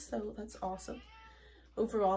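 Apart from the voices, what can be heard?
cat meowing while wrestling with a dog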